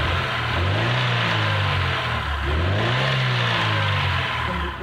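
A Chevrolet Aveo with a low-power problem revs loudly up close as its throttle is blipped, the engine pitch rising and falling in two smooth sweeps over a steady drone.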